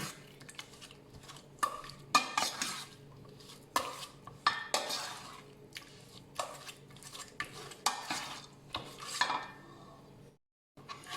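Curry paste and shrimp paste being stir-fried in a pan, with repeated scraping and clinking of a spatula against the pan in uneven bursts and only a faint sizzle, no talking.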